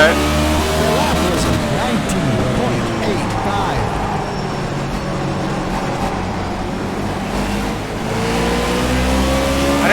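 NASCAR stock car engine in a racing game, a loud continuous roar shifting pitch as it accelerates, with other cars droning around it and no clear talk.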